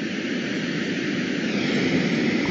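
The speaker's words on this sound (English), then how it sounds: "Putting your ear against the window of a jetliner." A constant, dense roar of jet airliner cabin noise from a sound machine, low and broadband, steady and close with no breaks.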